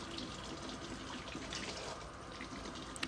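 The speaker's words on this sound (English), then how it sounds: "And then I'll rinse it under the sink in the water." Tap water running into a sink while a metal crotale is rinsed after polishing, a steady close splashing stream at low level, continuous throughout with no talk.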